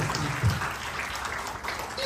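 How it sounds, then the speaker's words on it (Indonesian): A church congregation applauds during a sermon, a quiet, continuous wash of clapping that sounds fairly distant and holds for about two seconds. "Beri tepuk tangan yang meriah bagi"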